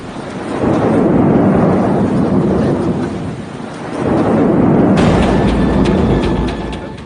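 Deep rumbling thunder from lightning striking a coconut tree during Cyclone Amphan in West Bengal, rolling twice through steady heavy rain, loud and broad, each roll swelling and fading over a few seconds.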